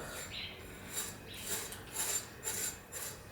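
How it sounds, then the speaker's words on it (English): Knife blade scraping pork belly skin, a series of about six rhythmic rasping strokes, close and fairly quiet, with a soft, bristly texture. "we're going to get a knife and we have to scrape the pork belly skin here"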